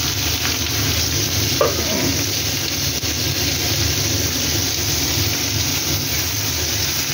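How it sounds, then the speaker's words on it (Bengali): Crushed garlic and then onion frying in hot oil in a kadai, a steady, even sizzle that continues unbroken throughout with no talking. "আমি তাহলে প্রথমে রসুনটা দিয়ে দিচ্ছি, তারপরে পেঁয়াজ দিয়ে দিচ্ছি"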